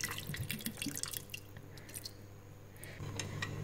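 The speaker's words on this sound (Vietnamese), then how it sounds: "Mình đổ nước lọc vào nha cả nhà cho nó sắp sắp cái thịt rồi" Filtered water is poured into a pot of Vietnamese-style beef stew with coconut, a soft, close, continuous splashing trickle with small drips, fairly faint throughout.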